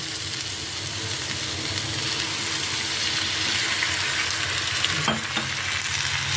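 Vegetables fry in a pan with a steady close sizzle and hiss, a light stirring scrape and a brief clatter near the end, no talking.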